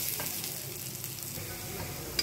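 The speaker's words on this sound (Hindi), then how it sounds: "सभी को हम अच्छी तरह से भून लेते हैं, लाल कर लेंगे। गुलाबी हो गया है, अब इसे हम और थोड़ा भून लेंगे।" Onions frying in a pan while being stirred, for an aloo chole curry: a steady close sizzle with soft scraping stirs throughout, no talking.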